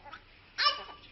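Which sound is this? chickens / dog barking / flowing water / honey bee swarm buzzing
dog barking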